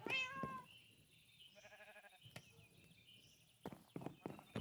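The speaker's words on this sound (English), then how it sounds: "Meowing." A Minecraft cat gives a few short, clear meows, interleaved with soft game clicks and footstep-like taps, all quiet and close.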